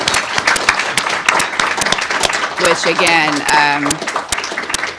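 An audience applauds a panel at a Supreme Court preview event, with sharp, dense clapping throughout, while a voice speaks over it partway through.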